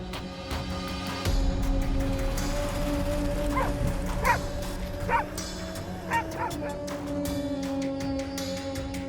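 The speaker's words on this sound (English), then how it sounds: "the pack of dogs usually gathers in groups, barking loudly and constantly moving around to harass and pressure the bear" A pack of dogs harassing a bear barks in short yipping bursts, several dogs calling in quick clusters at mid distance over a steady background hum.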